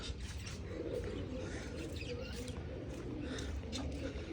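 Pigeons coo faintly in a loft amid steady background noise, soft low calls repeating with occasional chirps and a light flutter of wings.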